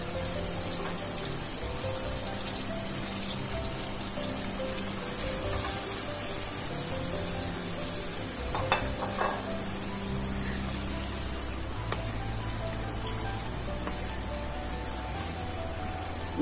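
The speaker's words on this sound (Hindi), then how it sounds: "अब इस टाइम पे हमने चिकन को इसके अंदर डाल देना है।" Chicken pieces go into softened tomatoes and spices in a karahi over the flame, giving a steady dense sizzle and hiss with a few brief clatters partway through, close and continuous, with no talk.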